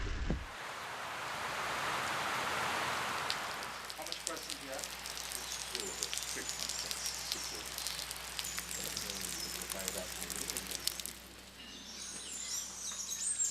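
Steady rain pours at a river eco-lodge in Guyana, a continuous broadband hiss with faint bird calls scattered through it.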